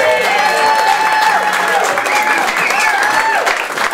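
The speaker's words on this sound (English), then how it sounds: "Give her another round of applause, folks." Party guests applaud at a birthday celebration, a dense, steady wash of clapping from a crowd lasting throughout, with voices and cheering mixed in.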